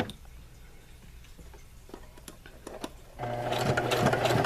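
A sewing machine stitches a cloth pad, first with faint scattered ticks and soft handling sounds, then a loud, steady close-up whir of rapid stitching in the final second and a half.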